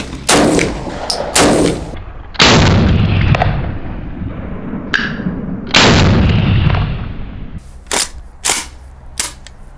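Loud, close shotgun blasts from a tuned Saiga-12K tactical shotgun, several sharp booming reports with ringing decay, spaced irregularly and fired alone with no talk.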